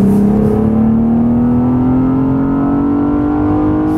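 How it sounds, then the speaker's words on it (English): A BMW 840i Gran Coupé in sports mode accelerates hard from about 70 to 120 km/h, its engine droning loud and steady as the pitch climbs gradually throughout, heard from inside the car. "Then we go to sports mode once again and see how the engine behaves when we already have picked up speed."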